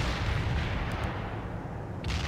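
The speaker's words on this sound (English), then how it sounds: "Mobile mortar is ready," Soviet mobile mortar firing in World in Conflict, Soviet Assault, a steady heavy rumble of launches and blasts with a couple of brief sharper cracks, loud and close.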